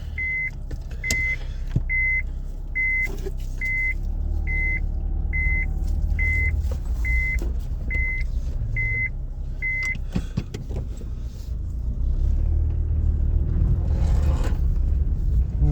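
A car pulling away on a road between the Amur region and Yakutsk, a steady low engine and road rumble with a repeating electronic chime beeping about a dozen times, the rumble swelling toward the end, no talk.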